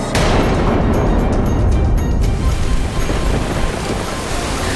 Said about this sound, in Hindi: प्रलयकारी लहरें और अधिक भयावह हो रही थी